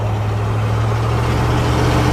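Loud, steady rumble of city street traffic at lunchtime with a heavy truck passing close, a continuous engine drone without a break.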